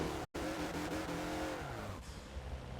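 A Mazda Lola B12/80 race car engine screams at high revs in Forza Motorsport at Virginia International Raceway, running steadily through the gears toward turn one with a loud, continuous whine that dips briefly and shifts pitch.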